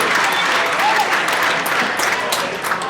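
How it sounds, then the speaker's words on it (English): Loud, dense audience applause for a chimney company sponsor at a live charity auction, a continuous roar of many hands clapping with crowd murmur mixed in throughout. "Let's have a round of applause for Fireplace and Chimney Authority."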